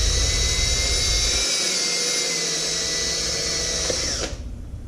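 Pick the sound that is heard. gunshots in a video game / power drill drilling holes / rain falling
power drill drilling holes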